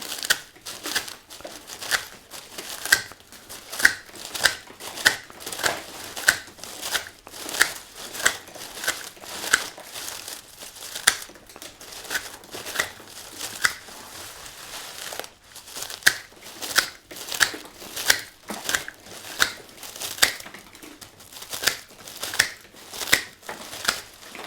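Dried wheat or barley stalks being cut straight across, with a steady run of crisp, crackling snips and crunches repeating at a brisk rhythm, close up and alone.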